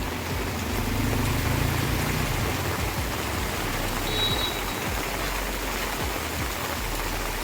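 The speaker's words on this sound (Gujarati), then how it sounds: "તો કેવો નદીની જેમ જાય છે" Floodwater rushing down a road like a river after heavy rain in Junagadh, a continuous broadband wash of flowing water with faint low rumbles, steady and moderately close.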